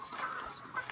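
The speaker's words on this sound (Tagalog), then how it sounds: "pakainin ko muna yung manok" A chicken gives short, faint clucks at feeding time on a rural homestead. The brief murmurs are close but quiet, with no voices.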